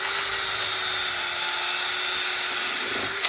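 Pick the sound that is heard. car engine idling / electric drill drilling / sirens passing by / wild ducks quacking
electric drill drilling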